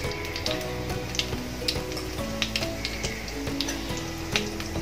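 Cumin and mustard seeds sizzle and crackle steadily in hot oil in a kadhai, with scattered sharp pops over a constant frying hiss, close and moderately quiet.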